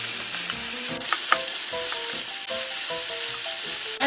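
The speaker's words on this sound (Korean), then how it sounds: "살짝 익도록 이렇게 볶아주세요" Seasoned shiitake mushrooms with sesame oil stir-frying in a pan, a loud, close, continuous sizzle broken by quick repeated spatula scrapes and tosses, with no one speaking.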